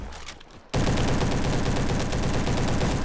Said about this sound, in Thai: ปืนแรงจริงฮะ ปืนแรงจริง ไม่เถียงเลย